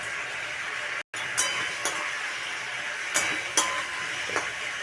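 A steady frying sizzle fills a pan of fish curry with curd, raw banana, potato and taro leaves while it is stirred, with a few scattered scrapes and clinks of the utensil over the hiss.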